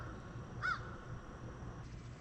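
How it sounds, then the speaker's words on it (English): A single crow caws once, fairly distant and brief, over a quiet early-morning background at Colt Creek State Campground. "the rest of the murder of crows showed up"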